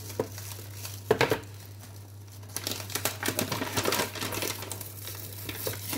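Aluminium foil wrapper crinkled and torn off a chocolate bar in a kitchen, a few sharp rustling bursts close by with quieter handling between them.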